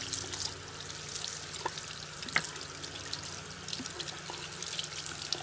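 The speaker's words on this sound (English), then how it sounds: "you turn your water back on and rinse both" Tap water runs steadily from a faucet into a sink while a makeup brush with foundation is rinsed under it, a continuous close splashing hiss with faint clicks and no talk.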